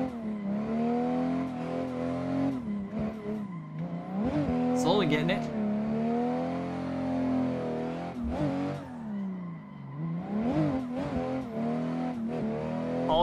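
Video-game car drifting on a randomly generated track in third gear, the engine droning and revving continuously with wavering pitch and bursts of tire squeal through the slides, while a player talks over it.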